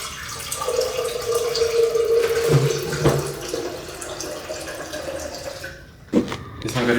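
About 300 ml of water is poured into a mixer grinder jar as a steady, close splashing stream, then stops with a short clatter near the end.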